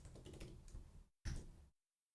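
Keys clacking on a computer keyboard, close and crisp, in a long run of typing, a brief pause, then a shorter burst before silence.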